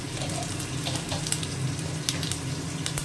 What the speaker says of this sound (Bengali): বড়িটা ভেজে নিয়েছি, এবার দিয়ে দিচ্ছি পাঁচফোড়ন